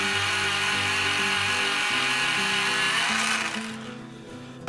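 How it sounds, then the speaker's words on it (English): A colored pencil is ground in a sharpener with a steady, close whirring buzz that runs for several seconds and then winds down. "I'm gonna actually sharpen it right now."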